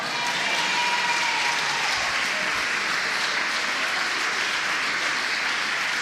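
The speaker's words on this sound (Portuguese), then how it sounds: "Eu não gostei do aplauso, vou repetir." A church congregation applauding during a sermon, a dense steady roar of many hands clapping that fills the room at even loudness throughout.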